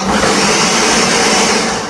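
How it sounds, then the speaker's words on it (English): A blender whirs loudly and continuously up close, a dense steady grinding roar with no pauses, blending yam in a kitchen. "I'm just going to blend this,"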